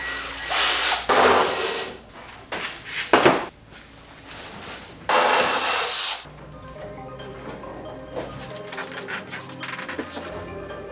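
A grinder cuts down the hood hinge kick-out on a BMW E36 in bursts, loud close-up grinding that starts and stops several times with brief pauses and rattling handling between passes.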